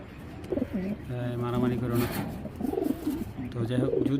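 Club Racer pigeons, a big full-feathered female among them, give soft rounded coos in several bursts, close by, with someone talking over and between the calls.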